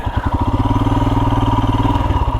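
A 2022 Royal Enfield Himalayan motorcycle's single-cylinder engine thumps steadily and close while riding, a rapid even pulsing beat with mechanical clatter throughout.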